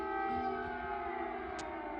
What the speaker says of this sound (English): Just been another air raid siren gone off.